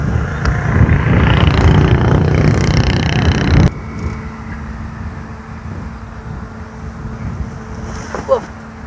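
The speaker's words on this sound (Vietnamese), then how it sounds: "Gió trên rất là căng." Strong wind during kite flying buffets the microphone in a heavy roar that cuts off abruptly, leaving a softer gusty background with a faint hum.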